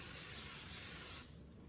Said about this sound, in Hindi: स्प्रे कर लें आप तेल अच्छी तरह से।